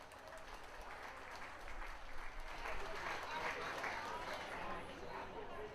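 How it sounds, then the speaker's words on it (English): Steady audience applause at a grand opening ceremony for Skyline Segment 2, a dense continuous wash of clapping that swells slightly midway and holds at a moderate level with no talk over it. "Ladies and gentlemen, a nice round of applause."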